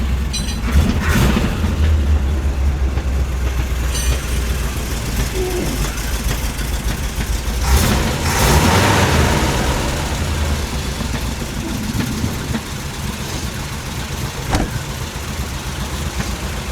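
A 1969 Camaro project car's engine fires up and settles into a rough, rumbling idle, close and steady for the whole stretch, with a few louder surges and occasional voices in the background.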